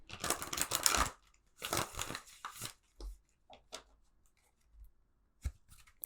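Tarot cards shuffled by hand, close-up papery riffles and slides in a few short bursts separated by quiet pauses, with occasional soft taps.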